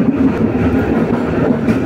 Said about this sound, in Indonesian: kereta api Logawa sudah diberangkatkan dari stasiun Surabaya Gubeng